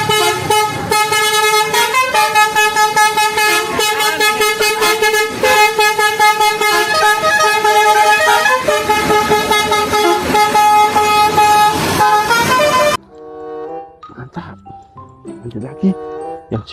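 Arema FC bus sounding its horn in a loud, rhythmic, repeating musical pattern of blasts at close range, which stops abruptly before a fainter, sparser tail.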